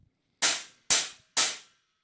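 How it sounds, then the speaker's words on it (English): A drum set stack of two cymbals stacked on top of each other is struck three times at an even pace, each hit a bright, trashy crack that decays quickly, loud and close with nothing else audible. "this is a stack, which is essentially 2 cymbals stacked on top of each other to sound like a trashy hi-hat"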